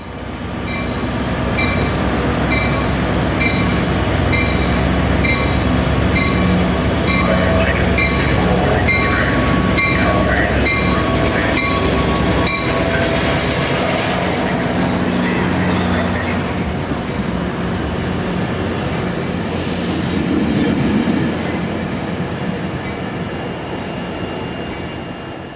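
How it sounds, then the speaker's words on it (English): An ACE commuter train set pulls out southbound, loud and close, with continuous rolling rumble, sustained high wheel squeal, and tonal whines that fade toward the end. "this Ace Train set will also pull south and come back to park on another track"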